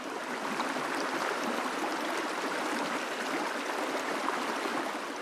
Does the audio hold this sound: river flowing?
yes